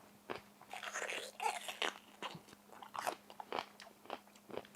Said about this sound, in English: You know how I said I was tempted to eat that onion? Well, I'm gonna.